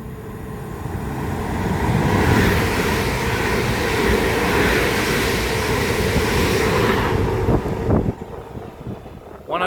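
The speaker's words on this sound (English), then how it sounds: "coming through now is going to be a pair of London Northwestern Railway Class 350s going from Birmingham New Street to London Euston" Two London Northwestern Railway Class 350 electric units run together past a WCML station at Cheddington, a loud, sustained roar of wheels and wind that holds steady for most of the passage, then breaks into a few rail clatters as it fades.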